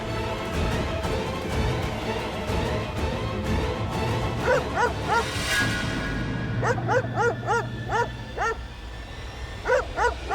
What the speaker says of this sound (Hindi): ये कुत्ते की आवाज नहीं है, किसी के मोबाइल की रिंगटोन है ये।